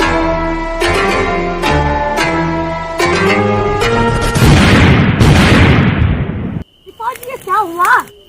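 Explosion from mixing two chemicals together, a sudden loud burst of noise after several seconds of music, then a pause and brief voice-like sounds.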